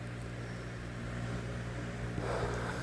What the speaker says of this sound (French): le bruit, bah, en fait, c'est mon ventilateur